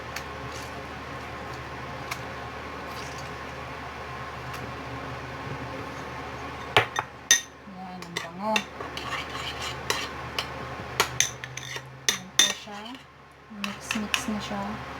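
A spoon stirs lemon juice into garlicky chicken in a bowl for roasting, with clinks and scrapes arriving irregularly after a quiet start, moderately close and mixed with soft background hum.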